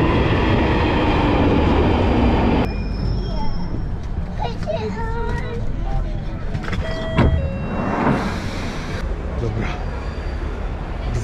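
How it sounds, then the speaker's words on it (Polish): A London Underground train pulls into a Tooting station with a loud, close rumble, rising squeals and clatter as it arrives, while people talk on the platform. "Tu jest moje metro."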